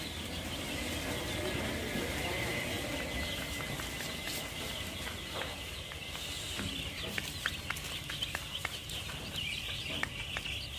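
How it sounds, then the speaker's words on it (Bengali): Seven-day-old Tiger breed chicken chicks peep and cheep in a scattered, faint chorus over a noisy background, with several sharper calls toward the end. "এগুলো অরিজিনাল টাইগার মুরগির বাচ্চা।"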